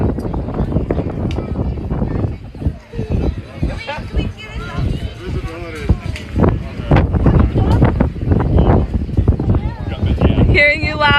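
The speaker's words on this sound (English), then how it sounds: "It is so windy." Gusty wind rumbles and buffets the microphone loudly throughout, while people talk over it outdoors.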